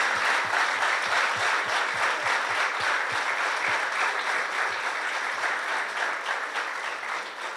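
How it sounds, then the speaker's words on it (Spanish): An audience claps during an anniversary event for the baptism of Saint Cura Brochero, sustained applause at a steady level with some distinct individual claps near the front early on. "le damos un aplauso"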